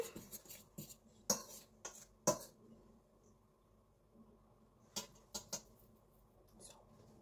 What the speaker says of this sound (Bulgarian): след това с една виличка ги смесваме